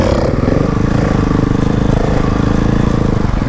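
Dirt bike engine revving hard and steady during a wheelie, loud and close, a continuous buzzing drone that holds throughout with no speech.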